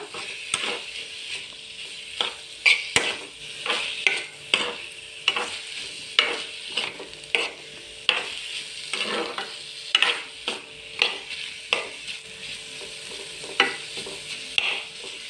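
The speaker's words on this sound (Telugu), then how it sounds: "స్టవ్ మీడియం ఫ్లేమ్లో పెట్టి వేయించేస్తా త్వరగా అయిపోతుంది" Ridge gourd curry sizzles in a pan on a medium flame while a spoon scrapes and stirs it in a steady rhythm of close, repeated strokes.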